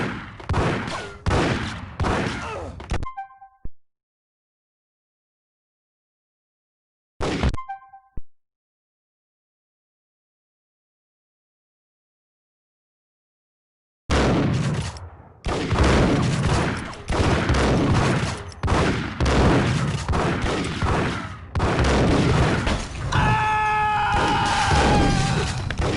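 Video game gunfire bursts out in dense, loud volleys, with a short crack and a brief shot between stretches of silence, then sustained heavy shooting and crashes filling the last half.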